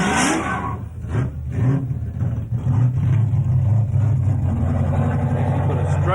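383 cubic inch small-block Chevrolet stroker engine revving at a car show, a loud, deep rumbling roar that rises and holds amid crowd noise, nearby.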